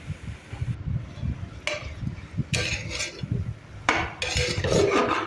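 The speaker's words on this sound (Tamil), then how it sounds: "இந்த மாதிரி நல்லா கிண்டி விடுங்க." Mushroom biryani masala being stirred in a pot, with a spoon scraping and clinking against the metal in irregular strokes, close and moderately loud over a low background hum.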